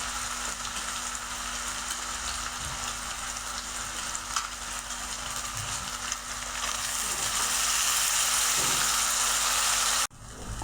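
Chopped onions and tomatoes fry in a hot pan with a steady, loud sizzle and occasional stirring scrapes, swelling louder toward the end before cutting off abruptly.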